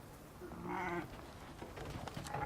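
Sheep bleating in a mountain setting, one clear wavering bleat early on followed by softer bleats and scattered animal sounds, close and alone without talk.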